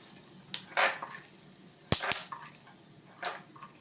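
Almonds popping and crackling while frying in hot ghee for carrot halwa: a few sharp, loud pops and cracks spaced irregularly, with a couple of softer crackles between them.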